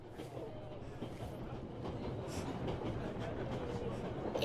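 A train in the video game 11-11 Memories Retold rolls along with a steady, low rumble and a soft rhythmic rattle of the carriages that grows slightly louder over a few seconds.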